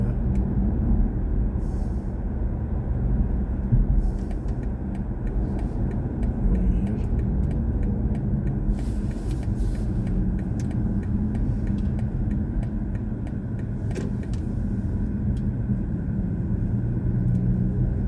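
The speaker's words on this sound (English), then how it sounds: "love driving in my car" A BMW i4 M50 electric car driving, heard from inside as a steady low road rumble and tyre noise with faint ticks, continuous and even throughout.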